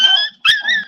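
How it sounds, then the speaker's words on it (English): Dogs fighting let out two sharp, loud, close yelping snarls in a brief burst, with no speech. "Dog fight."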